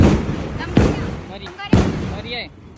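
Diwali firecracker bombs go off in two sharp, loud bangs about a second apart, with crackling debris after each blast, while people talk nearby.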